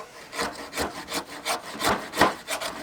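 A knife shaves curls off a stick of homemade waxwood, with about seven steady scraping strokes in an even rhythm, close and moderately loud, with no voices.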